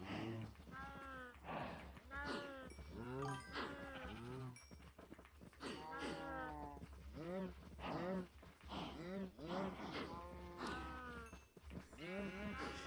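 Cows in the Minecraft video game being bred, giving repeated low moos and bleat-like calls in close succession, with someone talking throughout.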